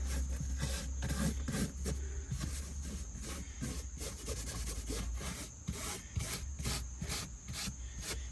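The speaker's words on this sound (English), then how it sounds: "I'm going to get a little brush, stiff brush though, and get down in the crease there." A stiff bristle brush scrubs down into the crease of a leather car seat, giving steady, rhythmic rasping strokes that sound close and fairly loud, with no talking.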